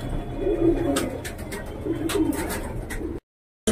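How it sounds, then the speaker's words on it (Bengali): Pakistani high-flying pigeons coo softly in a loft, with low repeated coos and rustling, ending in a short silence before another burst of sound. "ভিউয়ার্স শুধু পায়রাগুলো দেখো, যে পাকিস্তানি পায়রা তো অনেক দেখেছো, আর রকি ভাইয়ের বাড়ি একবার দেখে নাও।"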